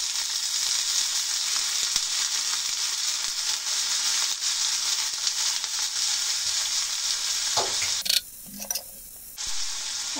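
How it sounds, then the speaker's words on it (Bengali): Sliced onion and green chilies sizzling in hot oil in a pan, a loud, steady frying hiss that drops out briefly near the end before resuming. "এখন পেঁয়াজ আর কাঁচা ঝাল একসঙ্গে ভেজে নেব।"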